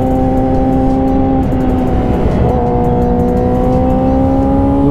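A 2006 Yamaha R6 sport motorcycle being test ridden, its engine loud and close with a high, rising whine and a sharp pitch dip around a gear change midway before climbing again.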